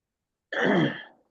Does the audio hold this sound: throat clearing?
yes